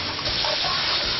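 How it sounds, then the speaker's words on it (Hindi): Water gushes steadily from an open tap, a dense, even splashing hiss heard up close and alone for about a second in a Dinosaur King cartoon scene. "पानी का नल किसने छोड़ दिया है?"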